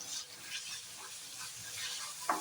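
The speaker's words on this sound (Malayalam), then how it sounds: "മല്ലിയില ഇട്ടിട്ട് നല്ലതുപോലെ ഒന്ന് ഇളക്കി കൊടുക്കുന്നുണ്ട്." Fried rice is stirred in a pan after coriander leaves go in: a steady close sizzle with soft scraping, ending on a sharp utensil clink.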